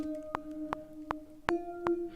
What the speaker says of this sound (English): I've also doubled it with this kind of filtered guitar, which sounds like this on its own.